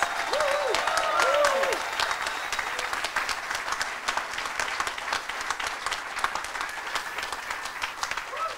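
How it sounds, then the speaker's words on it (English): A crowd applauds steadily with dense clapping throughout, while a voice briefly speaks over it near the start. "let's give them an incredible round of applause"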